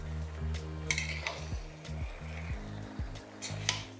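Red amaranth greens being stirred in a pan for a vegetarian laal saag dish, with scraping, clinking spoon-on-metal contacts and a faint sizzle, repeated irregularly over a steady low kitchen hum.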